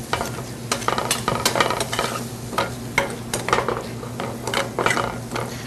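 A spoon scrapes and stirs chipotle sloppy joe meat frying in a pan, rhythmic clinks and scrapes over a steady low sizzle, close and moderately loud with no talking.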